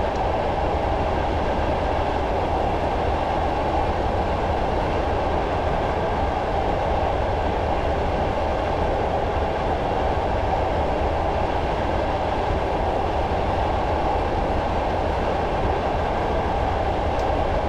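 Train Simulator 2015 locomotive on the Barnard Castle to Bishop Auckland route climbing an uphill grade, a steady, loud low rumble of engine and rolling wheels that holds constant throughout with no voices.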